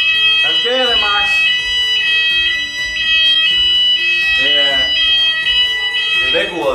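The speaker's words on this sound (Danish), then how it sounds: "Det er vækkeuret, vi skal op nu." A shrill electronic alarm beeps steadily and loudly indoors during a chaotic night on Rhodes, its tone repeating without pause while several people talk and exclaim over it.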